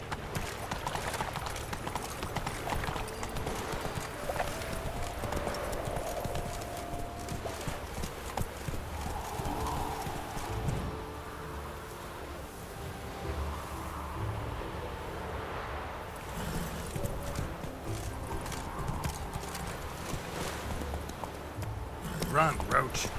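Galloping horse Roach in The Witcher video game, rapid rhythmic hoofbeats on the ground with an occasional neigh, steady through most of the scene over game music and ambience, with a voice speaking.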